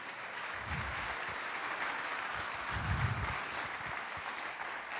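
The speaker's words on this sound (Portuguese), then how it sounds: "Quem pode dar uma salva de palmas para o Senhor?" A church congregation applauds during a Portuguese-language sermon, producing a steady, moderately faint wash of clapping that lasts about five seconds with no voices over it.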